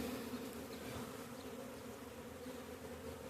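Bees from a hive inside an underground utility box drone in a steady, dense buzz that holds from start to finish, close and continuous with no talk.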